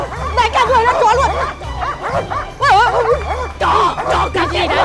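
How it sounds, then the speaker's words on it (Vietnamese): A dog barks and yips repeatedly in a comedic Tet sketch scene, the barks loud and close, coming in bursts with a few whimpers, over a steady low hum and background babble. "Chó nhà ai mà lại hung hăng thế?"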